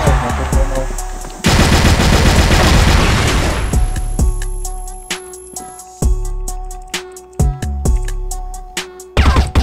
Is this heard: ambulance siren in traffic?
no